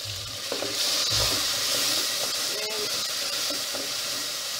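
Mixed spices and black pepper frying in a pot for vegetable pilau rice, a continuous close sizzle with repeated stirring scrapes running throughout.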